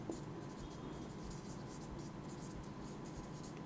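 Chalk or marker scratches steadily across a board during a physics lesson, a continuous faint scraping under a noisy room hum.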